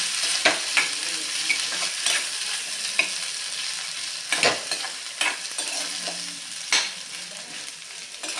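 Mashed potato fries in hot ghee in a pan while being stirred. A continuous sizzle runs under repeated sharp scrapes and knocks of the spoon against the pan, close and fairly loud.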